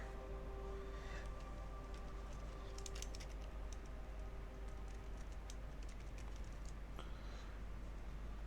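Typing on a computer keyboard during a World of Warcraft Classic session: faint, irregular clicks of keys, denser around the middle, under a quiet steady hum with no talk.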